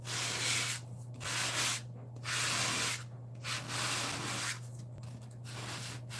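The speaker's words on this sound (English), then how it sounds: "this sanding block is a little more grittier than some of the other ones" Paper is sanded with a block in rhythmic back-and-forth rasping strokes, close up, over a steady low hum.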